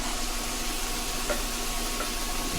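Sausage meat and garlic frying in a rice cooker, a steady close sizzle with faint hiss throughout and one soft knock partway in, no voices.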